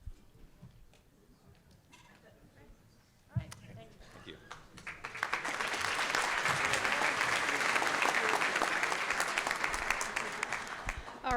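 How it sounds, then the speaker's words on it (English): Audience applause at a State of the Ports 2024 event, starting after several seconds of quieter talk and a few scattered claps, then swelling into steady, fairly loud clapping that holds before easing off near the end. "Can we give them one more round of applause?"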